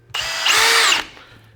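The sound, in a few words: cordless drill driving drywall screw into 2x4 wood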